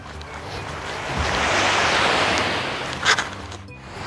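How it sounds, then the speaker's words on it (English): Ocean waves wash onto an Okinawa beach in a broad steady roar, with wind buffeting the microphone and a brief louder surge near the end; no one speaks. "our lesson today will be by the beach. This is the Okinawa beach."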